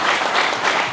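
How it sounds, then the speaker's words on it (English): Audience applause at a fire academy graduation ceremony, a steady wash of many hands clapping together, full and close throughout the brief moment. "So another round of applause."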